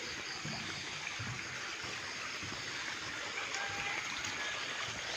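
Forest stream water flowing steadily as a continuous broadband rush, fairly loud and unbroken throughout, with faint bird calls above it.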